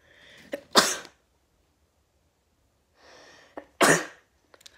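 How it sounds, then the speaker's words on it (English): Two sneezes from a person with a cold, each preceded by a short inhale and followed by a sharp, loud burst, spaced about three seconds apart, close to the mic. "Sorry, I had to sneeze."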